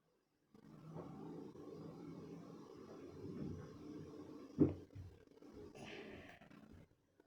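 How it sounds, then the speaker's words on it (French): A tractor engine in a farming simulation game, a steady low rumbling drone that runs for several seconds while the machine is parked, with a brief thump and a short higher whine near the end. "on va commencer à ranger le tracteur"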